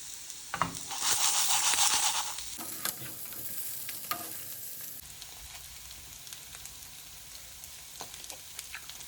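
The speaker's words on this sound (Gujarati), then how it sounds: "જ્યાં સુધી પનીર શેકાય છે વચ્ચે વચ્ચે ફ્લિપ કરતી રહેવા" Paneer fries in a pan with a continuous sizzle, a burst of louder hissing spatter early on, then a softer steady crackle marked by occasional clinks as the pieces are turned.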